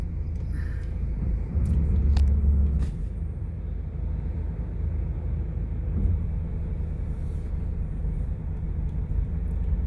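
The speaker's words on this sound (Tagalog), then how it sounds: "Traffic." Road traffic on EDSA in Manila, heard as a low continuous engine rumble from cars and buses, with a heavier vehicle surging close by early on and faint clicks and hisses scattered over the drone.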